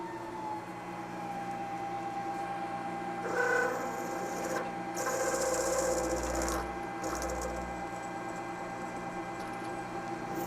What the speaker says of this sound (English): This is stainless. This is much harder to drill.